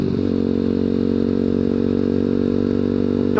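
A ZS190-engined Grom clone motorcycle rides along, its engine holding a steady, loud, buzzy drone close up throughout.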